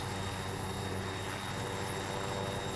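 A helicopter in the military game Arma 3 drones continuously, its engine and rotor forming a dense, steady roar with a fixed whine on top, held at a subdued volume with no talk.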